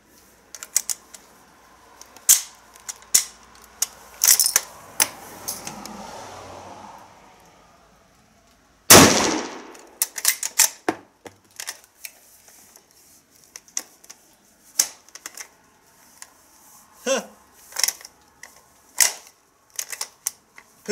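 Mauser Kar98k bolt-action rifle jamming with 2013 Romanian ball ammunition: sharp metallic clacks and rattles of the bolt being worked, one loud burst near the middle, then scattered close mechanical clicks.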